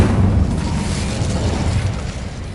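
A blast from the Incendio fire spell in the video game Hogwarts Legacy: a loud, low booming burst at the start that rolls into a sustained roaring rumble, fading slightly over a couple of seconds with no talking.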